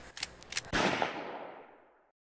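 Gunfire in a comedy news show scene: a quick cluster of sharp cracks followed by one louder blast whose broad noisy tail decays over about a second and a half, with no talking.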